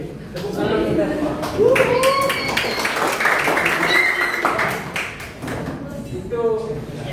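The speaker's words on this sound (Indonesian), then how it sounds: "Tepuk tangan kita semua." A class claps together in a room, a dense run of hand claps lasting several seconds, with children's voices and chatter mixed in.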